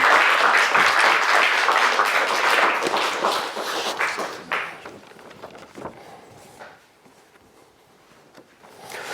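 An audience applauding, loud and dense clapping that thins into scattered claps and fades to near quiet, with some shuffling.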